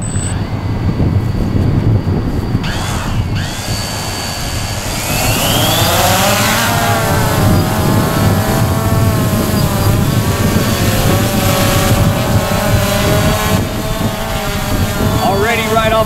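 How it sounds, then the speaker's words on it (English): A DJI Phantom 2 quadcopter hovers in position hold in the wind, its motors giving a steady, loud whine that shifts in pitch, with wind buffeting the microphone. "Now we're going to do the Phantom 2, the position hold"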